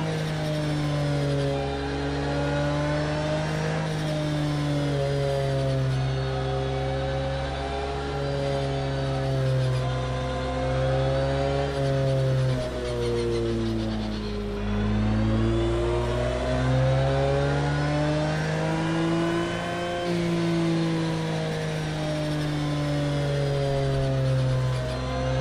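A Porsche 911 GT3 R race car engine in the video game Project Cars 2, running on its original setup, drones loud and continuous, its pitch rising and falling through sustained revs and gear changes.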